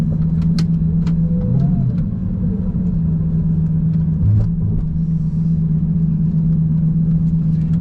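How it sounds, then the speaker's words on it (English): Lamborghini Gallardo with the V10 engine shared with Audi, running steadily with a loud, close, sustained rumble and a few brief rises in pitch, with no talking. "Audi and Lamborghini's V10 that they partnered on, just screaming."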